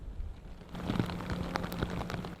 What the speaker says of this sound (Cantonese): 雨勢亦都相當大，唔少漁船已經回港避風。